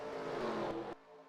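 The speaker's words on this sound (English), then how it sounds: "everybody else racing back to the checkered flag here at the close of tonight's race" Race cars roaring around Rockingham Raceway in a racing video game, a loud sustained engine drone that cuts off abruptly near the end.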